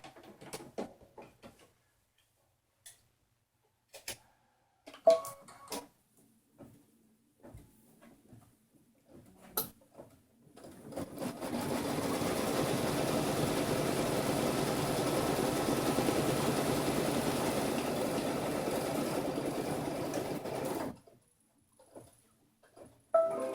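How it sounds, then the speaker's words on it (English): A sewing machine stitches the lining piece of a fabric purse in one steady, continuous run of about ten seconds at a close, moderate level, set between scattered handling clicks and rustles. "it'll stitch down the front and the back of and the back piece, the lining piece of fabric"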